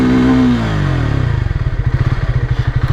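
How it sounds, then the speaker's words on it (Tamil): A Triumph Speed T4 400cc motorcycle engine is revved up close by, then its pitch drops as it settles into a loud, lumpy idle with a regular thumping beat. "ஆர்பிஎம் சவுண்டும் நல்லா பலமாக இருக்குது"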